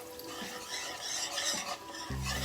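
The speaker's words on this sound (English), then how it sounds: "I am using whisk at this stage" A whisk clatters and scrapes briskly around a pan of milk sauce over low heat in quick repeated strokes, close and fairly loud, with a low hum joining near the end.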